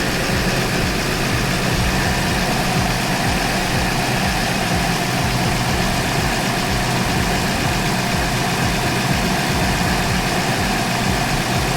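A Toyota Land Cruiser 100 (LX470) engine idles steadily with the heater running at maximum, producing a constant close-up drone with a low rumble and no voices.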